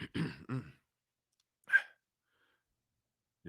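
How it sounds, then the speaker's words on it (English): A couple of short throaty vocal bursts, then a single brief rasping clearance of the throat, close by, followed by near silence. "clear my throat before I started talking."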